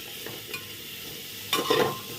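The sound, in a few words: pumpkin frying in oil with turmeric in pressure cooker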